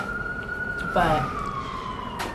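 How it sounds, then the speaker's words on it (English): A wailing emergency siren sweeps steadily in the distance on a New York City street while a person speaks briefly over it. "I'm sorry about the sirens."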